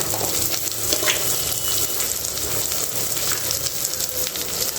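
Chopped tomatoes with a little salt fry in a pan, giving a steady, close sizzle and crackle that continues without a break and with no one talking.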